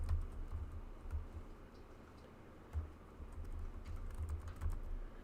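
Quiet, rapid tapping on a computer keyboard, soft clicks in irregular bursts over a low hum of room noise.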